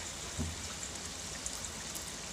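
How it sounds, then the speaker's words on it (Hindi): Vegetable and chicken rolls sizzle in hot oil in a small kadhai, a soft steady hiss and crackle with faint bubbling pops, close and fairly quiet, with no talking. "अब मैंने तीन डाली हूँ और मैं इसे फ्राई कर लूँगी"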